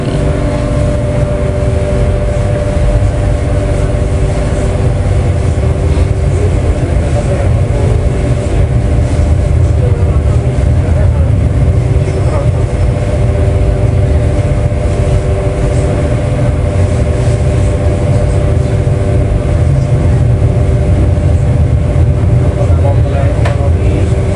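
Ranggajati executive train running after leaving Ngawi station, a steady loud rumble with tonal hum from inside the carriage throughout, continuous with no breaks.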